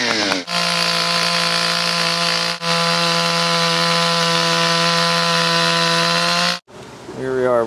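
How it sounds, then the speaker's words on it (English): A power drill bores a bolt hole through a tree trunk for a cable installation, giving a loud, steady whine with strong harmonics that runs for about six seconds with a brief dip, then stops as a voice starts talking. "set to drill his hole."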